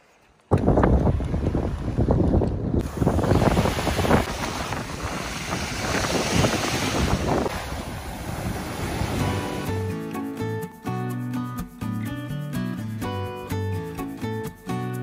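Strong wind and surf on a turquoise Corsican beach near Santa Giulia, with steady crashing waves and heavy wind buffeting the microphone, loud and continuous throughout.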